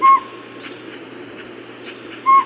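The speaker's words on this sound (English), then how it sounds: "Northern Pygmy Owl." A northern pygmy owl gives two short, clear whistled hoots, one at the start and one near the end, separated by a quiet gap with faint background hiss.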